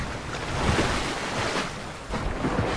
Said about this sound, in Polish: płynę rzeką